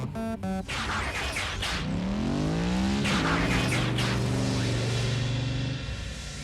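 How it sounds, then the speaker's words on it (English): Animated Transformers robot-car engines rev and whine, with a quick burst of rising tones early on, then sustained, layered engine drones and a falling-then-rising pitch sweep, loud and close with no talk. "Keep your engines idling, kid."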